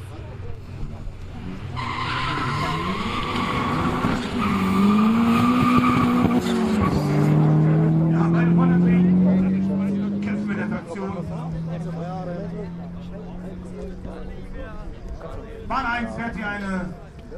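Quarter-mile drag race between an Audi A4 B6 1.8T and a VW Golf 5 GTI at Brilon: engines rise through the gears with a sustained tonal whine and tire squeal, loud and close, while people talk over it.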